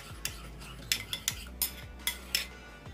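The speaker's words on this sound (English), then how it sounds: "mix it so well" A spoon stirring a homemade underarm hair-removal mixture in a bowl, with a series of sharp, close clinks and scrapes in uneven rhythm against a quiet background.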